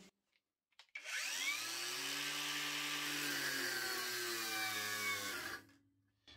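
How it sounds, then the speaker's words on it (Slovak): A Parkside Performance PWSAP 20 Li-C3 cordless angle grinder running on a 2 Ah battery whines up to a loud, steady high-pitched spin for about four seconds, then winds down, heard close and alone. "ten výkon je až tak slabý, že tá brúska len pri priložení kotúča do rezu sa vypína"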